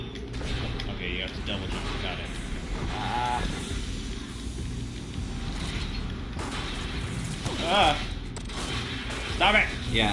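Gunfire from a gun in Destiny 2 rattles along in steady mechanical bursts with clicks and creaks for about ten seconds. Game tones and chirps sit underneath and grow louder near the end.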